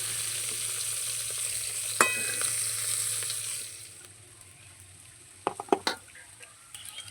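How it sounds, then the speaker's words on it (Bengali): Prawns frying in hot oil give a steady close sizzle that fades as they are lifted out, followed by a few sharp clinks of a utensil against the pan. "চিংড়ি মাছটা ভাজা হয়ে গেছে, এটা এবার তুলে নিচ্ছি।"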